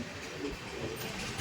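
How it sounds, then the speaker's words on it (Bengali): The 13151 Jammu Tawi Express pulls into Parasnath station, a low steady rumble of rolling carriages with a faint hiss, heard from on board, fairly quiet and continuous with no talk. "13151 জম্মু তাওয়াই এক্সপ্রেস এখন এসে পৌঁছে গেল পরশনাথ স্টেশনে।"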